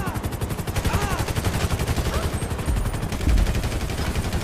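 Rapid machine-gun fire in GTA 5, a dense, loud stream of evenly spaced shots continuing throughout with a heavier low thump near the end.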